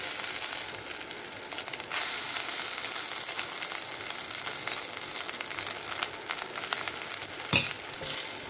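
Rice fries with gongura masala in a kadai, giving a steady, close sizzle with scraping stirs and a sharp clatter near the end, and no talking.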